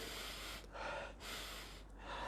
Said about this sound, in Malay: Okey, saya buat cara tarik nafas.